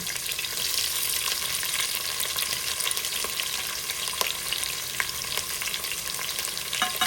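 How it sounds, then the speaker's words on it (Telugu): Onions fry in hot oil with shahi jeera and green chillies in a pot, a steady, close, bright sizzle with occasional stirring scrapes and clicks, no voices over it. "గిన్నె వేడైన తర్వాత ఆయిల్ వేసి అందులో కొద్దిగా సాజీరా పచ్చిమిర్చి వేశాను ఇప్పుడు ఆనియన్ వేస్తున్నాను"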